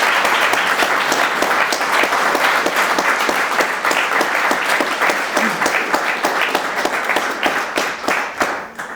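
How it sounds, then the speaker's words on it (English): An audience at a talk breaks into loud, sustained applause, many hands clapping densely for several seconds before it begins to thin out toward the end. "If we could all please give Tim a round of applause"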